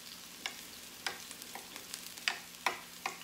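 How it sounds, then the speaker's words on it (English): Quiet sizzling from a hot pan, punctuated by scattered crackles and pops at irregular intervals, with no talking. "It's nice and hot in the pan now. You can hear it sizzle."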